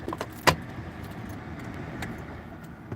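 Car keys giving one sharp, bright metallic jingle near the start, followed by a few fainter clinks, heard up close inside a car with a low engine hum underneath and no talk.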